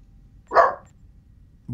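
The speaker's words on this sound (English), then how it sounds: "Woof to you too, dog." A single dog bark, moderately loud and fairly close, heard during a Star Trek Online gaming session, with a quiet background before and after.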